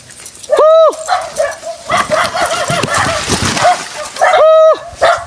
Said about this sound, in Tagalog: Ramdam agad tayo ng aso